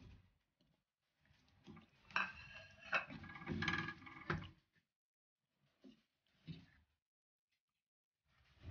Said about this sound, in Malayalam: പനീറിട്ട് നന്നായി ഒന്ന് ഇളക്കി മിക്സ് ചെയ്തിട്ട്